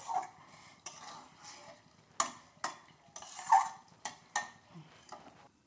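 Garlic chicken liver roast is stirred and sautéed in a pan, with a run of irregular spatula scrapes and clinks against the metal over a faint sizzle, close and moderately quiet.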